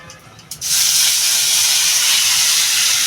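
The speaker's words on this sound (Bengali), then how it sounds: "তা আমি এবার মাছটা ঢেলে দেবো" Marinated eel poured into a hot pan for a Bengali curry, bursting into a loud, steady, close sizzle and hiss right after a brief splash, continuing without a break.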